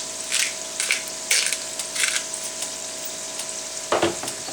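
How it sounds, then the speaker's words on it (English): Gravy being stirred in a hot pan on the stove for country fried hamburger steak, sizzling steadily with a few scraping strokes of the spoon and a louder scrape near the end, close and with no talk. "Now, you're going to keep stirring that or it'll burn on you."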